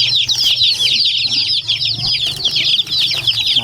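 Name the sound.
chickens clucking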